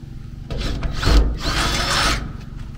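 A power drill bores through the steel wall of a shipping container in two close, grinding bursts that rise and ease with the cut, loud and near, with no talking.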